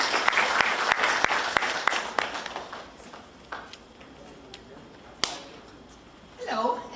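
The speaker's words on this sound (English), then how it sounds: "Please give a round of applause to Ms." Audience applause at an International Yoga Day gathering, a burst of claps that thins out over several seconds into scattered individual claps, with a voice starting to speak at the end.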